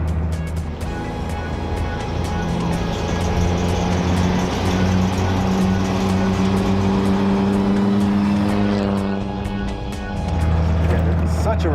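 An old Duesenberg classic car engine hums and drones steadily as it drives, with gear changes and a few clicks, under a low mechanical rumble.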